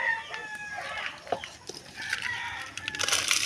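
Chickens at a backyard coop make brief clucks and squawks, with a rooster-like call mixed in, close by and moderately loud amid scattered farmyard noise.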